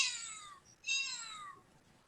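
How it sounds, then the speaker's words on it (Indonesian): A cat sound effect inserted while editing audio in Audacity: two drawn-out, high meows in quick succession, close and clear, with the start of a third at the end. "Maka suara kucingnya kita taruh di sebelah sini, di bawahnya."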